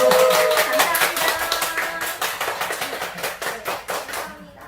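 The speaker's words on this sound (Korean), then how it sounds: "각자 핸드폰 속에서 박수 한번 드려볼까요?" A few people clapping in unison during a talk concert, with sharp, close, regular claps that slow toward the end.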